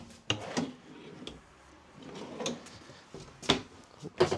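Deep storage drawers in the kitchen of a 2026 Keystone Cougar Half-Ton 29MBD travel trailer slide and thump shut, several sharp wooden knocks and rattles spread across a quiet interior.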